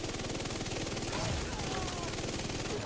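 An MP7 submachine gun fires in The Division 2, rapid repeated shots in quick bursts, moderately loud over busy game ambience, with no talking.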